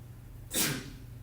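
A single short sneeze bursts out mid-clip, fairly close and sharp against a quiet room with a low steady hum.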